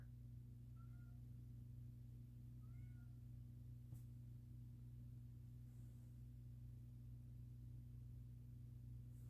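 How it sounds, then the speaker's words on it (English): Faint, brief meows from a cat, two or three short calls over a steady low hum. "Stop meowing."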